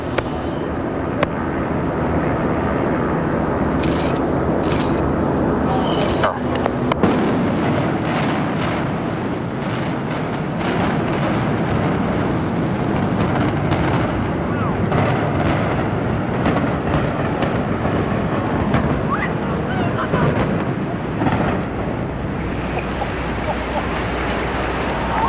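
The demolition implosion of the Kingdome stadium in Seattle, heard from a distance among a crowd, as a long, dense roar of rumbling blasts and collapsing debris that sustains loudly for the whole stretch, with crowd noise mixed in.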